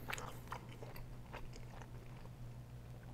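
Quiet, close bites and chewing on a chili cheeseburger, soft crunches coming in short bursts over a steady low hum, with no talking.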